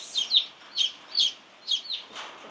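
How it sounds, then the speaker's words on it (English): Barnyard mix chicks hatched at home give short high peeping chirps in small clusters, about five bursts in quick irregular succession, close and clear with no talking. "some more cute little chicks. And these are barnyard mix."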